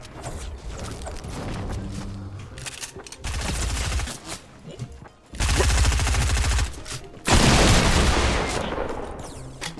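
Bursts of rapid gunfire in the Fortnite video game, Season 6, loud volleys separated by short pauses, with game mechanism noises between the shots.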